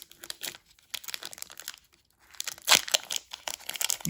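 Foil wrapper of a Pokémon trading card booster pack from the Evolving Skies set crinkles and tears open, with rustling bursts and a sharper rip near the middle, close and fairly quiet.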